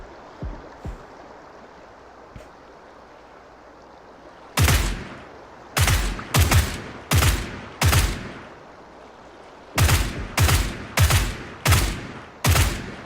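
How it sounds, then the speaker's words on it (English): Suppressed UMP submachine gun fire in a shooter game comes in two clusters of sharp, muffled bursts, five or so shots each, after a quiet stretch of faint ambient outdoor noise. No one speaks. "That's the benefits of using a submachine gun like that with a suppressor on it."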